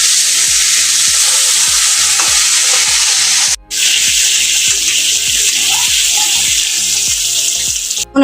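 Fish frying in hot oil in a pan, a loud continuous sizzle close to the microphone with a rapid regular ticking beneath it and one brief break midway.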